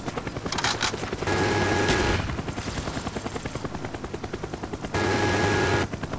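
A Cobra attack helicopter killstreak in Call of Duty: Black Ops thumps with a rapid, continuous rotor chop, layered with bursts of machine-gun fire and brief tonal whines, loud and close throughout.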